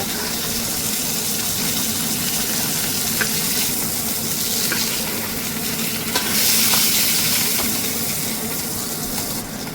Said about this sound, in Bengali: এই ঝোলে খুব একটা কড়া মাছ ভাজা হবে না মাছগুলো ভাজা হয়ে গেছে